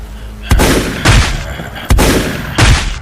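Cartoon gunfire blasts at zombies in loud, punchy bursts, four heavy volleys spaced roughly a second apart with rumbling booms between them.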